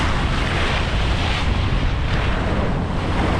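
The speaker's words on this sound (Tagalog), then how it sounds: "Alon na." Ocean waves and surf on a windy sea, heard from a boat. A loud, steady wash of water fills the whole stretch, with heavy wind buffeting the microphone and no voices.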